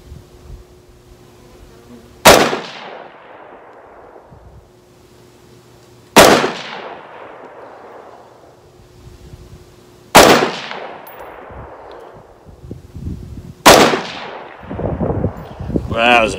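Four loud rifle shots fired with full metal jacket range ammunition from a cold bore, spaced roughly four seconds apart, each a sharp crack with a long ringing decay outdoors at a range.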